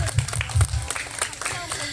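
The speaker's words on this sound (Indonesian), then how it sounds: "Tepuk tangan untuk kita semua." An audience claps at a 77th Indonesian Independence Day storytelling event, with a short burst of scattered applause and crowd noise at moderate level.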